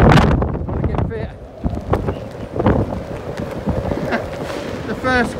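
Strong wind buffets the microphone on the open deck of a cruise ship at sea, with gusty low rumbling throughout and a person talking intermittently over it.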